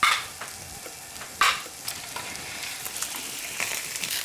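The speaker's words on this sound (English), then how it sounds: "So I'm just gonna add some turkey sausage to my pan." Turkey sausage browns in olive oil in a hot pan, giving a steady soft sizzle with a few louder bursts and scraping stirs, close by and without talk.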